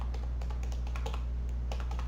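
Rapid keystrokes tapped on a computer keyboard in an uneven quick rhythm, close and clear over a steady low electrical hum, with no talking.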